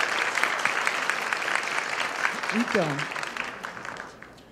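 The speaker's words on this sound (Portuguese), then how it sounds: "Palmas para ela, gente." Audience applause at a workplace well-being and integration talk, steady dense clapping from a crowd filling the clip and fading toward the end, with a voice speaking briefly over it.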